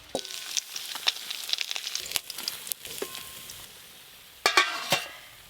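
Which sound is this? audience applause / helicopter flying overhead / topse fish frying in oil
topse fish frying in oil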